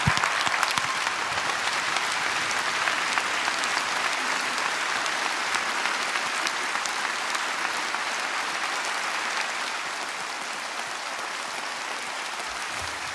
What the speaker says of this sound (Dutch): Dames en heren, groot applaus.